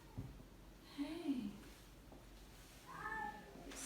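A cat meows two short, soft times in a quiet room, with faint handling noise between the calls.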